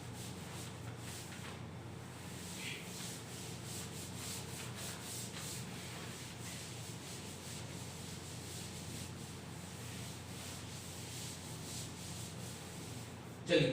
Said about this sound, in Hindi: चलिए इसको रब कर देते हैं